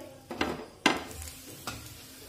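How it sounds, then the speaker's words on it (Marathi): Oil goes onto a dill (shepu) paratha on a hot pan over medium heat, giving three short sizzling bursts, each fading into a soft crackle, close up with no voices. "आता यावर थोडंसं तेल टाकूया।"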